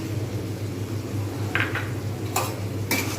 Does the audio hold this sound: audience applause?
no